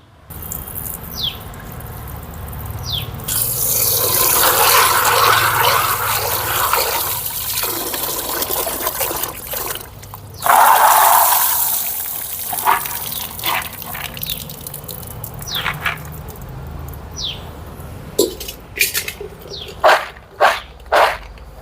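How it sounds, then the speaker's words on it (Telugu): Soaked green peas are rinsed in a bowl of water in a home kitchen, with steady sloshing and gushing swirls followed by a few splashy pours near the end. "ఇప్పుడు శుభ్రంగా వీటిని ఒకసారి కడిగేసి నీళ్ళన్నీ చేసి ఆరబెట్టుకుందాం తడి లేకుండా"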